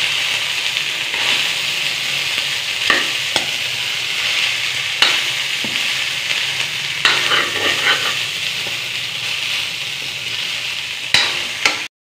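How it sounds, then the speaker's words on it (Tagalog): Fried rice being stirred and tossed in a sizzling pan, seasoned with soy sauce, with a steady loud frying hiss and repeated scraping clacks of the spatula throughout, no talk. "halo-halo lang para make sure na naluto talaga"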